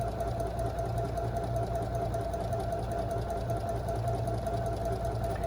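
A sewing machine stitches a buttonhole in one steady, continuous mechanical hum with a fast even chatter of the needle, running close and unbroken throughout with no talk.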